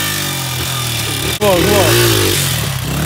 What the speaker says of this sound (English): Hold on, let's see the 2-stroke. Start it up, start it up.